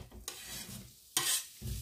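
Freshly cut onions for a gyro soup are stirred in a hot pan, with bursts of bright sizzling and the scrape of a spoon coming and going in short waves, close and fairly loud, with no voices.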